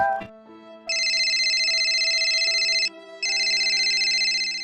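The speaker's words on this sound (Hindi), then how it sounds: "परम का फोन।" A phone rings in two long electronic bursts with a short gap between them, bright and close, over a low steady tone.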